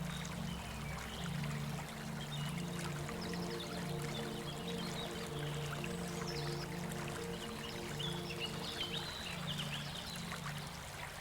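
Spring water running steadily at Eflatun Pınar, an ancient Hittite water sanctuary near Beyşehir, Turkey; a continuous soft trickle and flow, moderately distant, with a low steady hum beneath and no talking.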